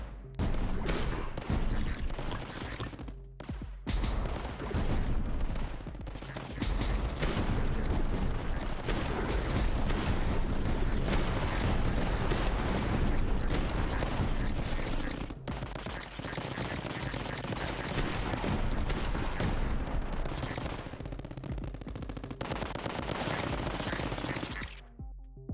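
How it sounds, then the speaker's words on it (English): A dual barrage light machine gun in the Tower Dominion tower game fires in a dense, sustained barrage of rapid shots mixed with booming impacts, loud and nearly unbroken. "Dual barrage light machine gun."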